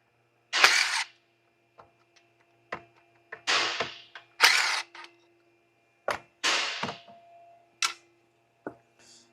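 A ratchet works a 10 mm bolt on the ignition coil of a Hyundai Veracruz, giving several close bursts of sharp ratcheting clicks separated by short pauses and scattered single ticks, with no talking.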